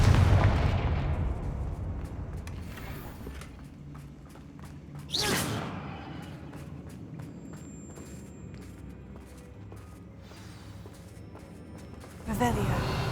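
A Confringo spell explosion in the Hogwarts Legacy video game: loud blasts burst at the start, again midway and once more near the end, over steady in-game background sound.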